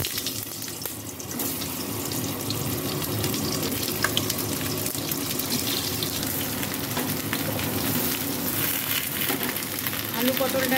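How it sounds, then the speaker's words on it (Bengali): Potato and pointed gourd pieces fry in hot oil in a pan, giving a steady close sizzle with watery hiss and brief clatters throughout. "এই তেলের ওপরে আমি আলু আর পটলটা ভেজে তুলব।"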